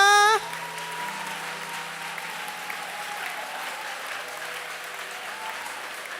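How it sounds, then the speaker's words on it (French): A church congregation at a pastors' conference in Bohicon bursts into loud, sustained clapping as an offering to the Lord, the dense applause filling the room steadily from start to finish without voices. "Give the Lord a clap offering."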